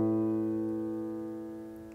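A sustained, clashing musical chord with rough beating between its tones, ringing out alone and slowly fading.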